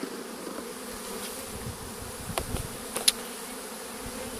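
A bee swarm clustered on a branch is shaken down into a hive, giving a steady faint buzzing hum with a few brief knocks and rustles near the end.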